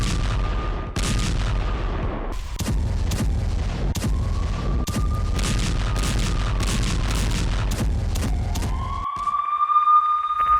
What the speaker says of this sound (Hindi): शहरों में पूरी रात सायरन बजते रहे।